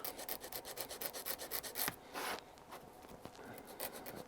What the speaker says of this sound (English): I'm just going to very lightly sand the paint back on these.